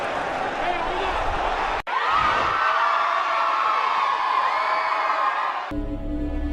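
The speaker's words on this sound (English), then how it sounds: "That crowd noise is hilarious." A video game crowd cheers and whoops loudly and continuously, with a brief cut midway and a shift to a different background at the end.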